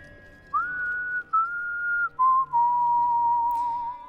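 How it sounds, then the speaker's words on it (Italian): Loud, clear whistling of a few sustained, sliding tones in Dishonored: Death of the Outsider, set in the Royal Conservatory, heard alone in several long held phrases with brief gaps. "Signore, non fischi così forte"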